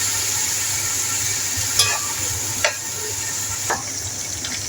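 Masala spices for chana pulao frying in a pan with chilli paste, tomato and tamarind, giving a steady close sizzle broken by three short scraping stirs.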